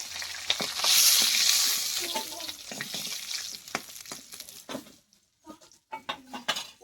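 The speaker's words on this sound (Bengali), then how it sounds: "মাছের মাথা ভাজা হয়ে গেছে" A katla fish head fries in hot oil, giving a crackling sizzle, and metal utensils scrape and clink against the pan in irregular taps as frying winds down.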